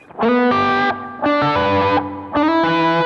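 A Jet Pedals Revelation reverb pedal with pre-delay at zero, processing three sustained guitar chords in turn, each swelling loud and bright with reverb blooming right away and briefly tailing off before the next.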